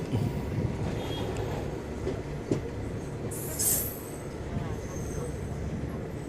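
Train at Andul railway station, a steady close rumble of wheels and carriages with rhythmic clacking, a bright squeal rising briefly midway, and a voice over the noise.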